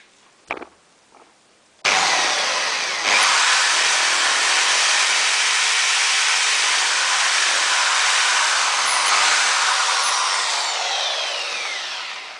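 A power drill bores a screw hole into wood for a homemade mosquito trap, whirring loudly and steadily for about ten seconds after a few faint knocks, then tapering off slightly at the end.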